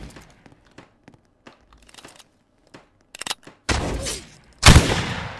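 Gunfire in the Apocalypse Rising video game, scattered clicks giving way to loud bursts of shots near the end, with no voices over it.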